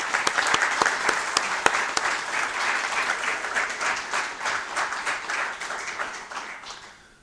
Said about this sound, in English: So let's give them a nice round of applause.